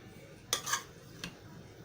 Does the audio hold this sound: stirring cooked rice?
yes